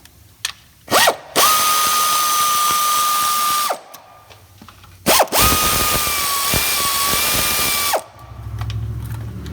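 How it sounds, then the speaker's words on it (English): Power impact tool whirring on torque converter bolts during transmission removal on a 2005 Ford F-150 4x4 with a 4R70 transmission, in two long loud steady bursts each with a short blip before, separated by quiet clicks. "I'm gonna take the torque converter bolts out."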